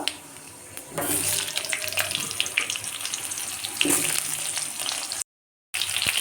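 Potato pieces frying in hot oil with cumin seeds tempered in, a steady loud hiss with crackling bursts that swell twice before a brief silence near the end.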